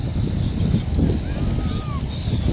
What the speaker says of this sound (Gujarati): જો પવન તો મસ્ત આવે